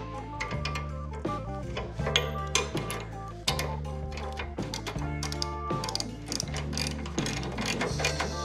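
A ratchet wrench snugs up control arm bolts on a 1955 Chevy fitted with CPP tubular control arms, giving rapid, steady mechanical clicking that runs continuously, close and fairly loud, with no talking.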